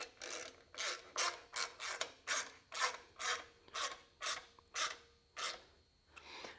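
Bumper mounting bolts are tightened with a ratchet during a CBI T3 Covert half bumper install, a dozen rhythmic raspy clicking strokes in steady succession, close and fairly quiet with no talking.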